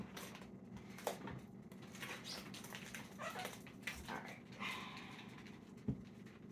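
A puppy dog indoors whimpering to be let outside, faint soft whines and small yips coming and going over a quiet room with a few light knocks.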